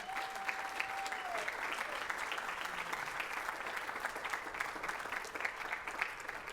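An audience at a college convocation applauds, a dense, steady clapping from a large crowd that continues evenly throughout.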